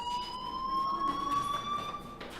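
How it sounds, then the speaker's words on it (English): A fire alarm in the video game Life is Strange rings as a steady, piercing electronic tone with a slight upward drift, continuous and prominent over a low background hiss. "do you hear that fire alarm?"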